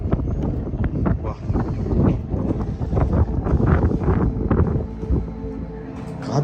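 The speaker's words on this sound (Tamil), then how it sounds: "காற்று தாங்க பயங்கரமாக அடிக்குது." Strong wind gusts through an abandoned flat more than 15 years old, giving a loud, continuous buffeting roar with rumbling wind noise on the microphone and no clear gaps.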